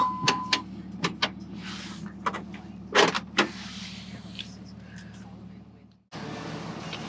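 A Ram truck engine runs at idle in a harbor-side setting, a steady low hum under scattered clicks, thumps and brief mechanical noises, cutting out briefly near the end before resuming.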